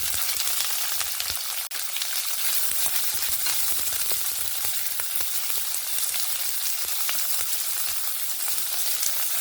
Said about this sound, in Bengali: পেঁয়াজ কুচিটা দিয়ে ভালো করে পেঁয়াজটাকে ভেজে নেব